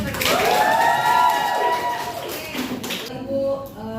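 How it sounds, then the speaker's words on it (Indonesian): Students in a classroom break into a burst of clapping and cheering for classmates, a dense, loud wash of hands with excited young voices rising over it before it tapers off. "Tepuk tangan dulu buat mereka."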